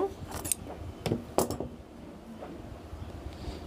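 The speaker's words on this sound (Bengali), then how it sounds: "এখন আমি সুতাটি কেটে নেব" Scissors cut crochet thread at close range, giving a few crisp snips and small metallic clicks with short pauses between them over a quiet room background.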